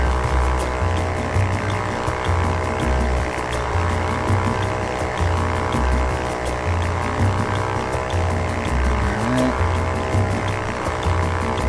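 A propeller plane drones steadily in the VR flight game Ultrawings, a continuous engine hum with a low pulsing throb and a faint game tone, no speech.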